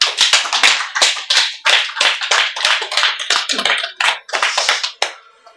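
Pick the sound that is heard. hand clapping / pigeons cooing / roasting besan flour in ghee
hand clapping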